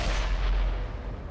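A single heavy tank-gun shot from an AMX Chaffee in the Xbox game World of Tanks, loud and close, with a sharp blast followed by a rumbling low-end tail that slowly fades.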